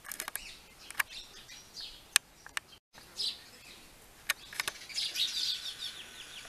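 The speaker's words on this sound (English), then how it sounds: "These are sparrows, common sparrows, house sparrows, and they are here everywhere." House sparrows chirp near a rest house at Mohli in Nauradehi, Madhya Pradesh: scattered sharp, bright chirps and short trills, fairly close, with a denser burst of twittering toward the end and no talking.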